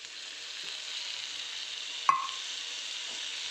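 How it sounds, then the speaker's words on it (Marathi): Green chilies fry in a pan until soft, giving a steady, close sizzle throughout, broken once by a brief metallic clink of stirring. "ह्याला ही मिरची मऊ होईपर्यंत ह्याला आपल्याला फ्राय करून घ्यायचं आहे"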